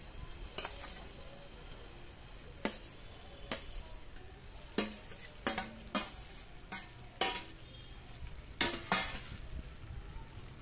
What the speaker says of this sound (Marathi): हे बघा अशा पद्धतीने हे तेल टाकून घ्यायचं आहे आणि हे आपले जे शेंगोळे आहे ते आपण तव्यावर टाकून घेणार आहोत